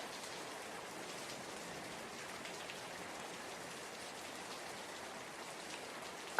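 Steady rain falls with a soft, even hiss of drops on surfaces, faint and constant throughout, ending in a short louder noise at the very end.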